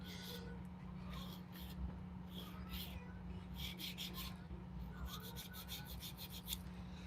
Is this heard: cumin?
no